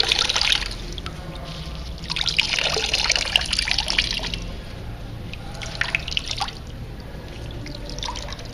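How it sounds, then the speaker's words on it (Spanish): Excess water drains from wet recycled paper pulp pressed in a cloth, trickling and dripping steadily with scattered louder splashes over several seconds. "se lo lleva a una presión para sacarle todo el exceso de agua"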